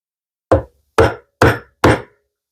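Wood chisel struck four times to chop out waste in a joint for a hand-built TV unit: evenly spaced, sharp thwacks, close and loud, with silence between.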